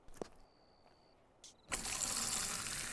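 Beer pours into a pint glass in Fable 2: a couple of soft clicks and a brief tone lead into a sudden, steady foamy gush that holds to the end.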